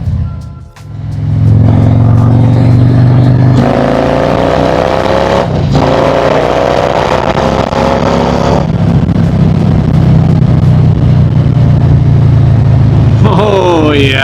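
Harley-Davidson motorcycle on a dyno, its engine revving hard with rising and falling pitch sweeps and sustained loud running, close up, with brief dips between pulls and voices faintly beneath.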